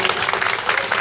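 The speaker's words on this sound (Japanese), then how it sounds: "拍手、" Audience clapping after a singer's set at a live bluegrass concert in Tokushima, a dense, steady burst of applause from a hall crowd with no voices over it.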